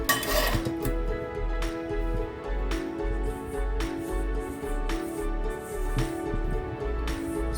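Nankhatai dough is worked with a spatula in a bowl, giving a steady run of scraping clicks and knocks against the bowl in a regular rhythm, with no talking.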